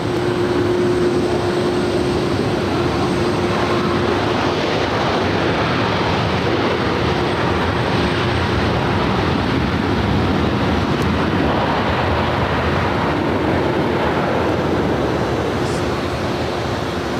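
A Southwest airliner rolls for takeoff on runway 7 left at LAX, a loud, steady broadband jet roar that fills the whole stretch without letup, heard from near the airfield.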